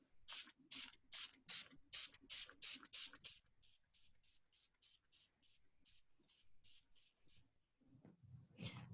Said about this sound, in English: It is actually vinegar, and we're going to spray the paper and see what happens